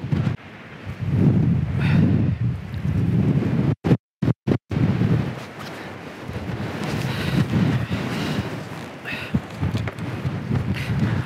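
Strong wind at Ramsgate Harbour, Kent, buffets the microphone in loud, roaring gusts, with a few abrupt dropouts partway through.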